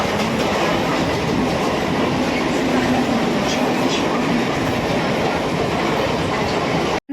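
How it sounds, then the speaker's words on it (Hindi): A passenger train runs on its rails, heard from inside a crowded ladies' coach: a loud, steady rumble with rhythmic wheel clatter that continues for the whole stretch. "फाइनली मुझे ट्रेन मिल गई, अब मैं बैठ गई ट्रेन में।"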